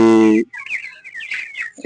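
Broiler chickens about twenty-five days old in a poultry shed give high, wavering peeping calls up close, following a brief loud tonal sound at the start.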